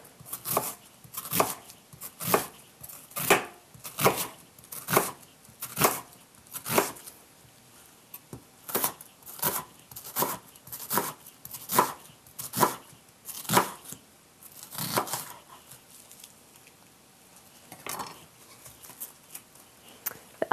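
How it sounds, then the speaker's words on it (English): A kitchen knife slices a peeled half onion into thin strips on a cutting board, with a steady rhythm of crisp, close chops that pause briefly near the end. "We're only going to use half of our onion peeled, so we just slice this into thin strips by cutting along the lines."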